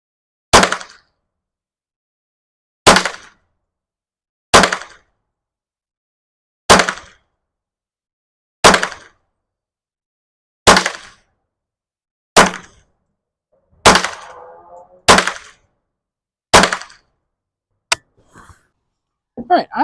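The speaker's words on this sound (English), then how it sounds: "Let's get shooting." Ruger 10/22 Takedown rifle firing at a 25-yard target outdoors, about ten sharp separate shots spaced roughly two seconds apart, each a crisp crack with a brief tail, followed by a few soft clicks and handling noises.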